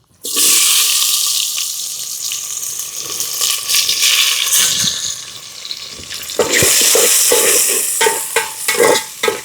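Onions with bay leaf, cinnamon, cloves and cardamom hitting hot oil for gongura mutton curry, opening with a loud burst of sizzling that settles into a strong hiss, then clattering stirring near the end.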